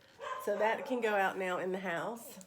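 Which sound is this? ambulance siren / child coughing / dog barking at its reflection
dog barking at its reflection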